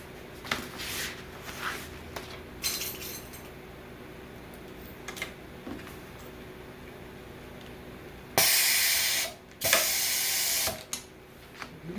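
An automatic grommet machine punches and sets grommets into heavy 7.5-ounce billboard material, giving small clicks and ticks early on, then two loud, sustained hissing blasts of machine air near the end.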